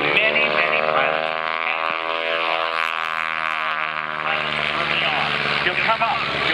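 Stearman biplane flying aerobatic maneuvers at an airshow, its radial engine and propeller droning steadily and loudly throughout, with the pitch shifting slightly as it rolls, while an announcer talks over it.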